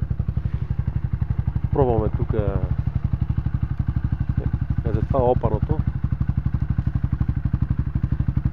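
A dirt motorcycle idles with a loud, steady mid-pitched chugging while people talk nearby on a rough trail.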